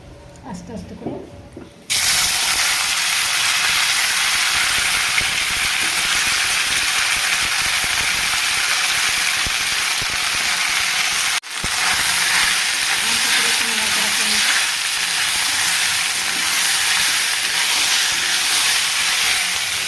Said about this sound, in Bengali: তেল গরম হয়ে গেছে এবার আমি পাস্তাগুলোকে দিয়ে দেবো